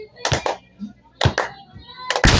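Claps from a hand-clapping counting game, heard in a few close, sharp bursts with pauses between them, and a voice in the background.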